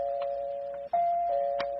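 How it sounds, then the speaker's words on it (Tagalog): Doorbell rings with a steady electronic tone, briefly cut, then resuming, clear and close in a quiet room scene of a radio drama. "May nag-doorbell man."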